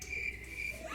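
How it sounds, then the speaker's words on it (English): Crickets chirp in a steady, continuous trill as a sound effect, a thin high-pitched pulsing that sits alone and fairly faint without any voices. "Crickets."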